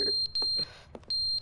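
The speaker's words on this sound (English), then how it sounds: "There's some smoke alarms going." A smoke alarm in The Stanley Parable emits sharp, high-pitched electronic beeps, repeated in quick pairs with short gaps, clear and fairly close.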